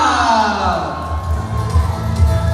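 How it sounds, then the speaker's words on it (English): An audience at a pageant crowning cheers and applauds a newly named winner, a steady wash of crowd noise and whoops with a low rumble, moderately loud. "Let's congratulate with her. Huge round of applause."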